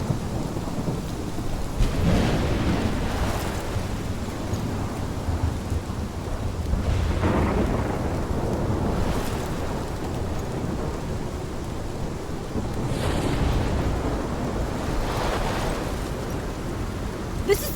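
A heavy storm in the game Life is Strange Remastered: constant loud rain with rolling thunder swelling and fading in several slow waves.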